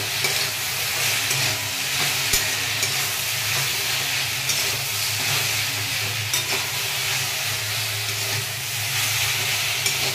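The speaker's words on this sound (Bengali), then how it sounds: "দিয়ে আবার একটু নাড়াচাড়া করে নেব।" Food stirred in a hot pan after turmeric and salt go in, a steady loud sizzle and hiss running throughout with scraping stirs and an occasional sharp tap, no voices.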